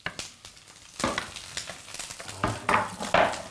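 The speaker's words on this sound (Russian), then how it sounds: "Зашкварчало у нас тут все." Onion and meat sizzle in a hot pan over high heat for a Tatar-style azu, crackling and hissing up close with irregular stirring scrapes and no talk.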